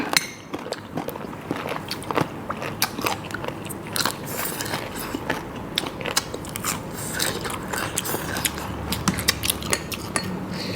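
Crunchy bullet jellyfish with seafood dipping sauce and fresh vegetables is bitten and chewed close to the mic, giving dense, repeated crisp crunches throughout with no talking.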